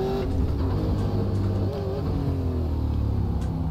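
A Super Late Model race car engine in iRacing drones loudly and steadily at Tsukuba Circuit, its throttle rising and wavering close up with no voices.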